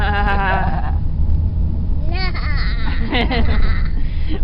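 A small child imitates a sheep's bleat with a few wavering baa calls, close and loud, between short pauses, with an adult voice in the room.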